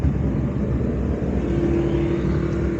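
A 300 kg-class MPV delivery van drives through city traffic, giving a steady rumble of engine and road noise from inside the cabin, with no one speaking.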